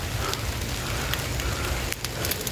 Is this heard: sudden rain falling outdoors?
yes